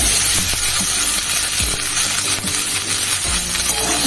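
Chopped ridge gourd tipped into a pan of frying onions and green chillies gives a loud, dense sizzle, with a few clinks and scrapes of stirring over the constant hiss.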